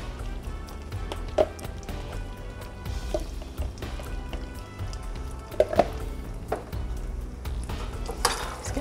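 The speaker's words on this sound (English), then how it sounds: "We're going to stir in 1 quart of chili." Chili being stirred into a pot of mac and cheese, with soft scraping and thick squelching, a few sharper clinks of a utensil against the pot and light sizzling from the hot stove, close and fairly quiet.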